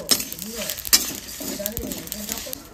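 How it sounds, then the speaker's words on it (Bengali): Spices fry in hot oil with a bright sizzle, mixed with stirring scrapes and a few clinks of a spoon against the pan. "আর এদিকে আমি মশলাটা ভেজে নিচ্ছি"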